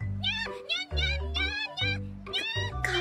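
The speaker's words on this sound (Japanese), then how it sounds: "いい猫ちゃんね。" A cat meows repeatedly, a run of short, close, insistent cries with barely a pause between them.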